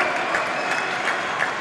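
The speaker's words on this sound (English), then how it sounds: "Huge applause from the audience." Audience applause at the 2012 table tennis final between Zhang Jike and Timo Boll, a dense burst of crowd clapping filling the hall, loud and continuous throughout.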